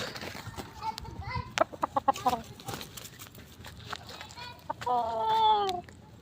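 A restless red fighting rooster clucks in a run of short, sharp calls close by, with brief rustles and a higher drawn-out call near the end; someone speaks briefly around it.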